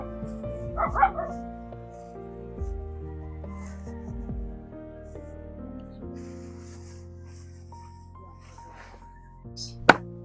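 A dog gives a short burst of yips and barks early on and another sharp yelp near the end, heard over steady background music and room noise.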